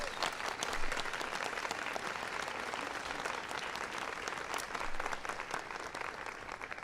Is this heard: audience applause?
yes